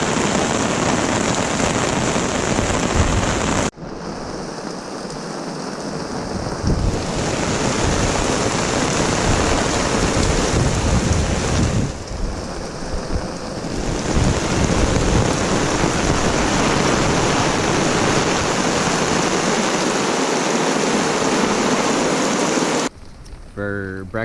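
Heavy rain pours steadily on a campsite during a canoe trip in the Temagami lakes, a dense, loud wash that drops out briefly and returns, with a deeper rumble underneath suggesting thunder.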